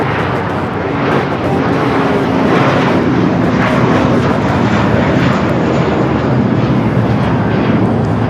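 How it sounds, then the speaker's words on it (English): An American Airlines A321 jet roars steadily down the runway on takeoff, a loud, broadband engine rush holding at full power for several seconds with no voices over it. "This is American Airlines 818 taking off to Dallas-Fort Worth on the A321."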